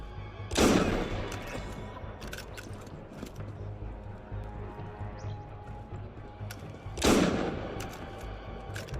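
Two loud gunshots from the game Assassin's Creed Unity, roughly six seconds apart, each a sharp blast with a decaying tail over a steady low in-game ambience.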